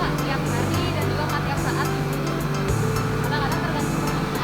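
A coffee grinding machine runs in a hot grinding room at a Bali coffee works, giving a steady, close mechanical drone with humming tones that barely shifts throughout.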